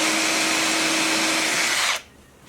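A power drill spins a countersink bit into wood, a steady loud whirring grind with a constant tone that runs for about two seconds and then stops abruptly.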